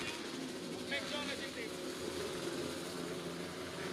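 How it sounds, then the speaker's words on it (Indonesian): Racing motorcycle engines roar in a steady, dense drone on the grid before the start of the U23 final at Pangeran 05 circuit, with faint voices underneath. "mesin sudah meraung, saudara-saudara"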